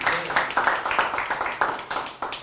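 An audience claps to welcome Captain Digendra Singh, the Kargil war hero, at a Kargil Vijay Diwas event: a burst of irregular, moderately loud claps that keeps going and is partly overlaid by a voice.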